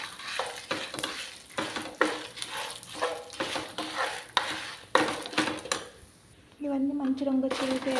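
Red chillies and drumstick leaf powder ingredients frying in a pan while being stirred, with scraping stirs and a steady sizzle throughout; a voice speaks over parts of it.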